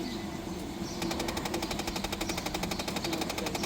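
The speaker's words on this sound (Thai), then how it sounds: "เสียงมันพัดลมเนาะ" A 2009 Nissan Navara Calibre pickup's cooling fan kicks in after a quiet moment, giving a fast, steady rattling pulse, fairly faint, that continues without talk.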